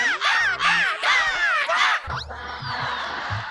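A performer's voice imitates crow caws on a Kannada comedy stage show: four loud, harsh, swooping calls in quick succession, then heavy thumping band percussion takes over.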